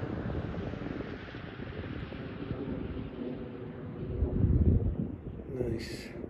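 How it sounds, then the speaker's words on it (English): An airplane drones overhead outdoors as a steady broadband rumble that swells slightly toward the end, heard alongside wind buffeting the microphone, with no one speaking. "Yeah, you can hear the plane"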